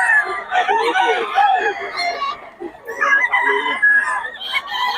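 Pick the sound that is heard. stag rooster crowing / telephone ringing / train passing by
stag rooster crowing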